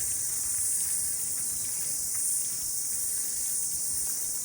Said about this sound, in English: Cicadas are now out, which always happens in summer after the first good rain.